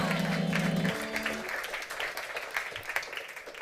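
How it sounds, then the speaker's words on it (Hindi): A church congregation claps together during worship, a broad, steady patter of many hands that rises after a sustained tone fades, with faint voices mixed in. "आइए ताली बजाकर परमेश्वर को महिमा दें."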